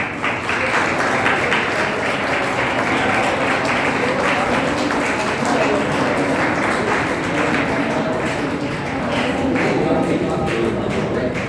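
Audience at a career guidance event claps loudly and continuously throughout, a dense steady wash of many hands in a room.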